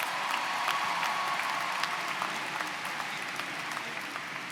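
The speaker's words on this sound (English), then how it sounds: "let's give your family and friends a big round of applause" Applause at a John Jay college commencement ceremony for graduates' families and friends, a sustained, fairly distant crowd clapping with a few sharper individual claps, tapering slightly toward the end.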